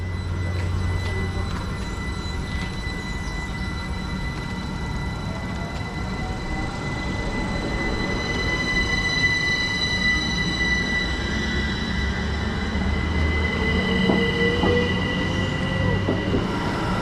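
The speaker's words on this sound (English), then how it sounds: "we're going to let the train go out as it's literally about to leave now" A train pulls out of Aldermaston Station with a steady rumble, faint wheel squeal and rail noise. It sounds close and continuous, with no talking.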